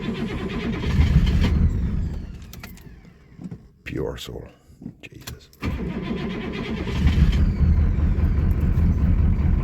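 Oldsmobile 5.7 diesel V8 cranking over in freezing cold after sitting unused for weeks, the starter grinding in bursts before the engine catches and settles into a loud, rough idle, with a voice talking over it.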